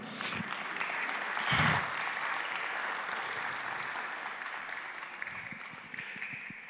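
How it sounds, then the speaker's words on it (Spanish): Steady applause from a church congregation fills the space, with a brief louder swell of clapping early on before settling into even, sustained clapping. "Un aplauso al Señor."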